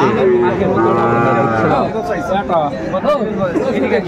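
A young Sahiwal bull calf lowing loudly and close at a cattle market, a drawn-out moo followed by shorter calls, with people chattering around it.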